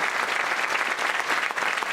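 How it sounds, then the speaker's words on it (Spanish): Audience applause at an international congress on the bicentennial of Colombian independence: a short burst of dense, even clapping from many hands, moderately loud throughout. "Un aplauso para el doctor Armando Martínez Garnica"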